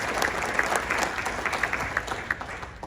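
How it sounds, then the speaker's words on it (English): Steady applause from an audience at an acceptance speech, dense clapping holding at an even level throughout with a faint murmur of crowd underneath. "and I want to give them an applause."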